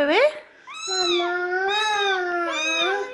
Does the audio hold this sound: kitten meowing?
yes